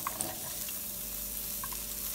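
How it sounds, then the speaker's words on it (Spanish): Onion frying in oil in a cooking pot gives a continuous close sizzle with faint bubbling pops throughout. "por aquí yo tengo una cazuela donde voy a agregar aceite, donde vamos a guisar lo que es nuestra cebolla"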